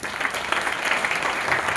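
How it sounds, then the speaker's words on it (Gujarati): A seminar crowd applauds to welcome the chief guest, with steady continuous clapping and no talk over it. "તાળીઓથી વધાવતા રહીએ"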